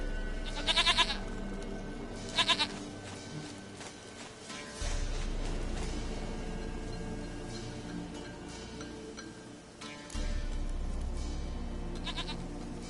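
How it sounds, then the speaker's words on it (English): Goat bleats in the video game The Witcher 3, several short nasal cries at intervals over a quiet outdoor ambience, with no one speaking. "Goat of mine, dearest, sweetest goat."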